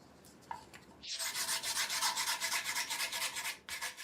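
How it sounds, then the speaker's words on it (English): A boxwood comb's teeth are shaved by hand with rapid, rhythmic rasping strokes, close and distinct, after a few light scrapes and a brief tap. "Without a word, he begins to improve it. He shaves more forcefully."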